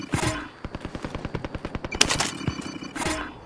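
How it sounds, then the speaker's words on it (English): Rapid bursts of submachine gun fire in Warzone Resurgence quads ring out as a steady train of sharp, close reports, loud and continuous for the whole stretch with a few brief pauses. "Got a submachine gun here."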